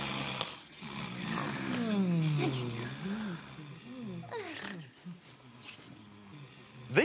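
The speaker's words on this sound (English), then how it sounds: "Who's that snoring?" A cartoon animal snores loudly in long, rumbling, roaring breaths that rise and fall, with a voice speaking in between in a children's program.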